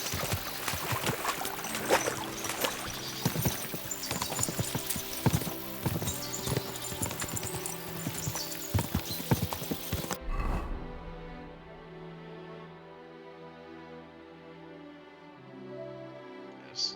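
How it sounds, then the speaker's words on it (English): In a video game, rapid hoof clip-clops from several galloping horses pound over a dense, noisy background, then cut off, leaving quieter ambient sound with water-like movement near a stream. "we'll give the horses a gallop again"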